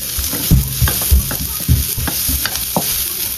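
Fried rice being stir-fried in a pan, a steady close sizzle with repeated scraping and clanking of the spatula against the metal in an uneven rhythm.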